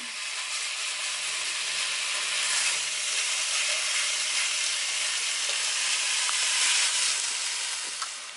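Beef browns on a large flat-top griddle while cooking Philly cheesesteak filling in an RV kitchen, producing a loud, steady sizzle and hiss that swells slightly and then settles, with no talking.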